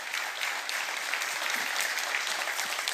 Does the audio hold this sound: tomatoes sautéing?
no